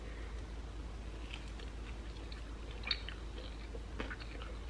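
Close chewing of a bite of fried egg on bread topped with Texas Pete hot sauce, soft steady mastication with a few crisp crunches, alone with no talk.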